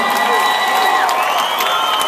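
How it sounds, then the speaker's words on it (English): Crowd at a live MMA event applauding and cheering loudly and steadily for the fighters after a stoppage, a dense wash of clapping and shouts with an announcer's voice over it. "Give a nice round of applause for these guys."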